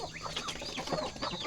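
Hens and a rooster cluck softly together at close range, a busy scatter of short chirpy clucks over low background noise.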